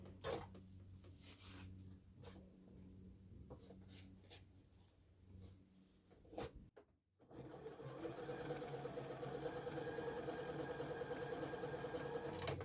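A Janome JW8100 sewing machine runs a zigzag stitch at a steady, continuous mechanical whir, close and fairly loud, after a short pause with lighter handling noises before it starts.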